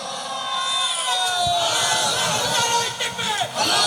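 A large religious gathering shouting the takbir together, a massed roar of many voices rising and holding loud, with short dips and surges as the chant repeats.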